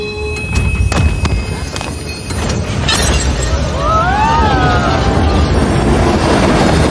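A loud train rumbles continuously with a few sharp clanks early on, followed by rising and falling metallic squeals from the wheels.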